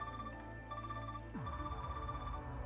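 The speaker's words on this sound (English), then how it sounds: "I recognize this ringtone." A phone ringtone in the video game Trails Beyond the Horizon, a repeating melodic electronic tone that rings steadily and fairly loud, with game music underneath.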